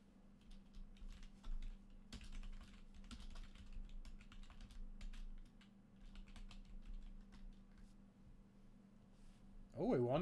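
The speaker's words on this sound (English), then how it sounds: "Sorry if you hear me typing in the background." Computer keyboard typing clicks away quietly and continuously under a steady hum and ongoing talk during an online Magic: The Gathering match, with a louder burst near the end.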